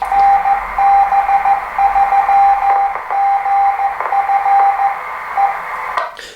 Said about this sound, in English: Right on cue, the repeater is just an ident